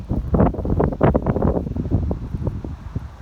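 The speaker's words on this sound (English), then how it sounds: "Look at these high winds coming from the southwest up to 20 miles an hour." Strong southwest wind up to 20 mph buffets the microphone beside a 40-foot telescopic mast, a loud, continuous roar with rough gusty bursts and no talk.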